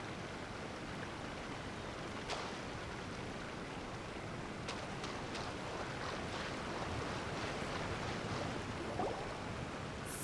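Steady rushing waterfall in the game Genshin Impact, a broad constant wash of falling water at even loudness throughout, with no voices over it.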